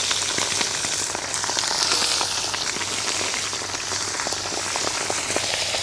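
Chicken frying in melted lamb tail fat in a karahi, a dense, steady sizzle and crackle with constant popping, close and loud without pause.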